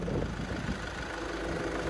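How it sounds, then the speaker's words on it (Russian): A 2010 Volkswagen Touran with a 1.6 TDI diesel engine idling, a steady, even mid-pitched hum with a faint knocking texture, heard close and unbroken with no talk. "Моторчик работает ровно хорошо."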